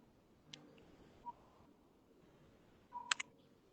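A faint phone camera shutter clicks once or twice in a quiet room, brief soft ticks with a small beep-like chirp between them, no talk over it.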